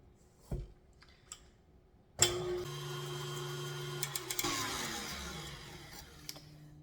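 An electric mixer whips eggs for blueberry cake batter, starting with a sudden jolt after a couple of light knocks, then running as a steady motor hum with a faint rattling beat against the bowl, its pitch shifting partway through.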